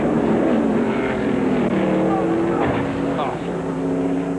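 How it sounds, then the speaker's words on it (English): A Chevrolet race car at the 2000 Lysol 200 at Watkins Glen loses control at turn one and slams into the Armco barrier, with a loud sustained engine roar and a scraping impact over steady track noise. "Something broke on the car, sending Johnson hurtling into the Armco at turn number 1"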